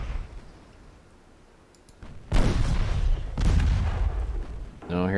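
Warship guns fire over the bow in Ultimate Admiral Dreadnoughts during an 1895 Norwegian naval campaign battle in stormy weather: two heavy booming salvos a second apart, each followed by a rolling rumble.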